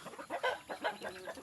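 Chickens cluck in a quick, close burst of overlapping calls, a short busy chatter from several birds.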